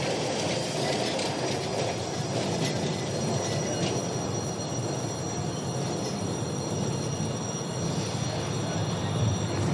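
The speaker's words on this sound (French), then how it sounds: "Le train du Montanvert, il est fréquenté toute la journée." Montenvers rack railway train running through the Alps near glaciers, a steady loud rumble of wheels and carriages with faint metallic squeals throughout, no voices.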